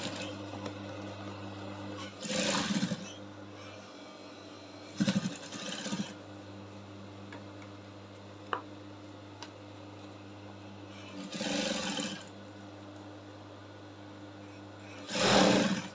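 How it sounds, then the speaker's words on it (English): Sewing machine top stitching a corset yoke lining runs as a steady close mechanical hum, with several brief louder bursts of rapid stitching around two, five, eleven and fifteen seconds. "I'll just drop it and I'll keep sewing very close."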